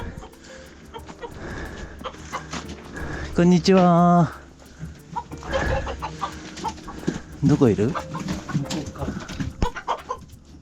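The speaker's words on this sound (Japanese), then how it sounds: "さあ、ニワトリちゃん" Chickens clucking on a farm near a brooding hen and newly hatched chicks, with bursts of loud, harmonic calls standing out among other fowl and people chatting over them.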